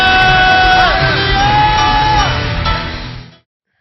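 A church congregation at a Sunday worship service shouting hallelujah together, a loud sustained crowd roar with whoops and raised voices lasting about three seconds before cutting off.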